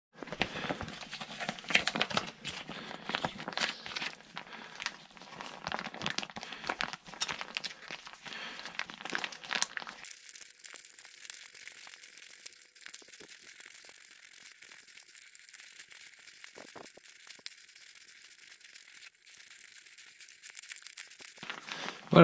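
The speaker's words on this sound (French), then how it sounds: "on va pouvoir mélanger la résine avec son durcisseur. Il faut malaxer pendant 2 minutes." Two-part resin pouch being kneaded by hand to mix resin with its hardener for a waterproof electrical connector, a faint continuous crinkling and rubbing of plastic with no talking.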